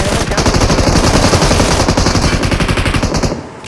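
Rapid gunfire from the mobile game BGMI rattles loud and near in a dense, continuous burst, then tails off at the end.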